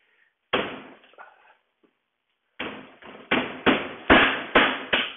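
Flat bar working off trim from a double-hung window, with one sharp knock, a pause, then a rapid series of five or six loud, ringing metal-on-wood strikes close by.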